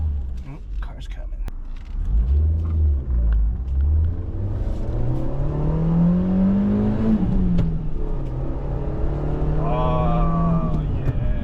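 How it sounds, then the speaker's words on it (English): A car engine swells as the vehicle approaches, peaks in pitch and loudness, then drops away as it drives past, a steady rising and falling hum over a low rumble. "Car's coming."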